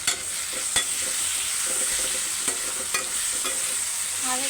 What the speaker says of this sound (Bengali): আর এই যে মশলাটাকে কিন্তু সুন্দরভাবে কষায় নিচ্ছি।